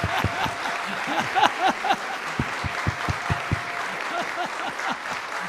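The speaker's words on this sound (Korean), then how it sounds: "박수!" Congregation at a Korean church's Wednesday evening service claps to welcome a guest lecturer, a steady patter of applause running beneath a voice that keeps talking throughout.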